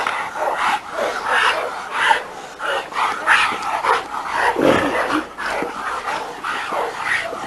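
Several dogs at a working dog yard bark and yip in repeated bursts, fairly close and continuous, with a little talk mixed in.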